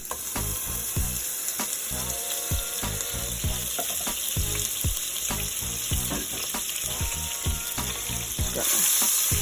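Butter and olive oil sizzle steadily in a hot pan, a loud continuous frying crackle with scattered pops and occasional stirring scrapes, close up.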